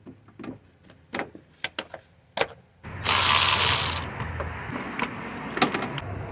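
A ratchet wrench clicks in short, sharp bursts while disconnecting a Toyota RAV4 battery, followed by a brief loud rushing hiss and then quieter mechanical handling sounds close by.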